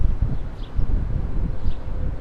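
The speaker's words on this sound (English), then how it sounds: "There's a lot of wind going on." Strong wind blusters along a city street on Manhattan's Upper West Side, a continuous low rumbling buffet close to the microphone with no clear other sounds.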